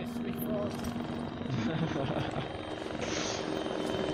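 Russian military helicopter flying in the video game ARMA 3, a steady rotor and engine drone that runs throughout under voices talking over it.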